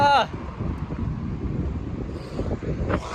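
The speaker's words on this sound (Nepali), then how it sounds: "हावा चल्दैछ" Wind blows across a bridge and buffets the microphone in a steady rushing roar, while a voice talks over it.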